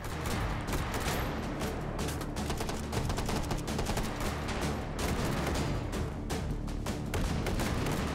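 Rapid gunfire in the VR shooter Hot Dogs, Horseshoes & Hand Grenades during a Take & Hold match, loud, dense bursts of shots, shotgun blasts among them, hammering without pause and close up, with no speech over it.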